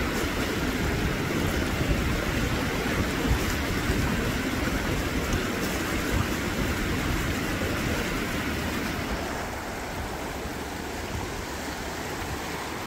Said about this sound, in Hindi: देखिए बारिश और तेज हो गई है